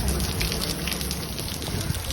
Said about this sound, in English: Well, it's raining here, but blue sky up there.